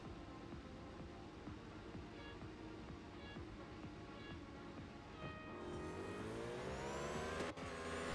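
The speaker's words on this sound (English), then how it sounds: "Now I wanted to move over to a 3D game real quick. We'll go with Real Racing 3." Car racing in the Real Racing 3 video game: a continuous engine drone with rising revs and gear changes, steady and moderately loud, accelerating toward the end.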